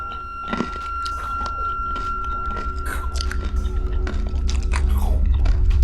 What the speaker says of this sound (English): the sound of Saturn devouring his grown son's body, bones, flesh, tissues